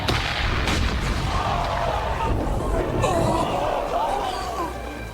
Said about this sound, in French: Le public acclame et applaudit.